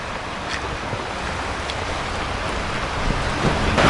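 Steady rain falling outdoors, a dense, even hiss of drops with no voices, growing slightly louder toward the end.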